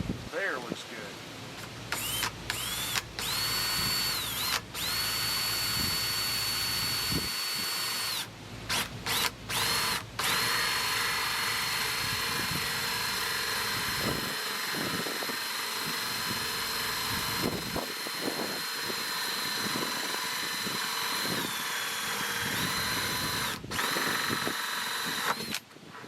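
A power drill bores slowly into a plastic bucket while someone repairs an automatic quail watering system. A close, whining motor starts and stops in repeated bursts, then runs steadily for long stretches, with a voice talking over it.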